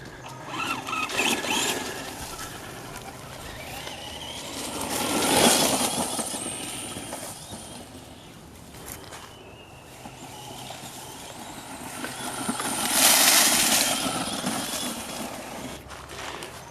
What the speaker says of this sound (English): this thing, with its larger tires than say a regular little track buggy, is pretty decent with thick terrain stuff like this